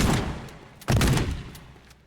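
Shotgun fire in the video game Teardown: a heavy, loud blast with a rumbling tail stands out over busy game noise, followed by fainter echoing reports.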